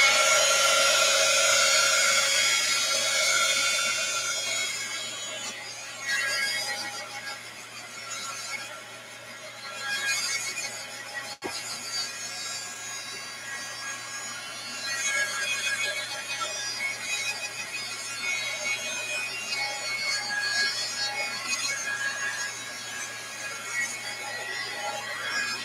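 A handheld hair dryer blows steadily close by to dry wet paint on an art journal cover, a continuous whooshing roar that dips and swells as it is moved around.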